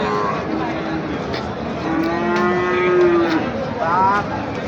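Cattle, including young bulls, moo loudly and close by at Ambari cattle market, with several long drawn-out calls overlapping amid steady crowd noise and faint talking.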